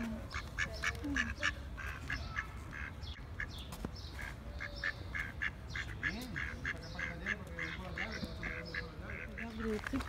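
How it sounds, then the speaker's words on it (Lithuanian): A duckling quacks repeatedly in quick, rhythmic bursts close by, over a murmur of outdoor voices and background chatter. "Ančiukas atakuoja mano draugą."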